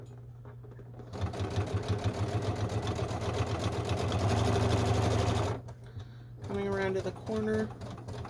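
A sewing machine runs a long, fast, steady burst of topstitching in blue thread on a Dodgers-themed WhHIPpersnapper project, then stops abruptly before a voice speaks.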